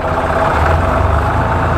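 A Massey Ferguson 255 tractor engine runs steadily with a deep, even diesel rumble, close and loud, while pulling a cultivator for mechanical weed control in a field.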